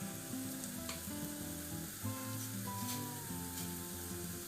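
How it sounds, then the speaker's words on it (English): Vegetables sizzle in a pan as they are stir-fried for vegetarian spicy noodles, a continuous moderate hiss with light stirring scrapes and some low background tones, no speech. "Fry these up a little bit."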